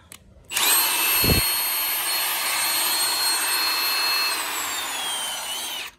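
A Milwaukee 2767 18V cordless impact wrench spins up with a sharp start and runs at a steady high whine for about five seconds, close and loud, then stops; no talk.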